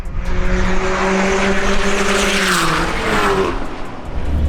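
A forged MK7 Golf R and a nitrous-fed MK4 Golf TDI drag race, their engines roaring loud and close with a sustained tone that climbs in pitch under hard acceleration before easing off.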